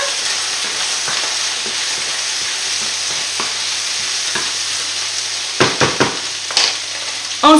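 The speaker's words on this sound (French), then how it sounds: "Je vais remuer ma viande." Chicken meat sizzles steadily in a hot pan, a loud close frying hiss throughout, with a cluster of sharp scraping stirs of a utensil near the end.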